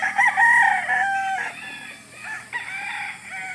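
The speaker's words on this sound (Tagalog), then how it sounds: "Malalaking manok" A rooster crows loudly and close by, a long drawn-out call followed by a couple of shorter crows, with no other sounds around.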